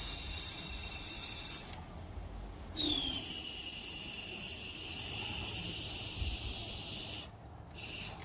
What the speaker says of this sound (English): we're going to spray the fogging oil up in here